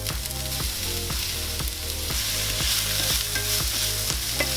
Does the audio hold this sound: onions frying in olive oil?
yes